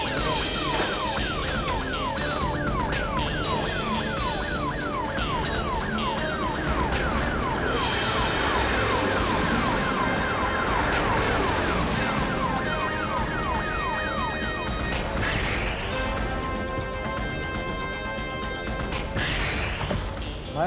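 An ambulance siren wails continuously for about twenty seconds, sweeping up and down rapidly and then more slowly, loud and close amid traffic noise and engine rumble, with a dramatic score blending in.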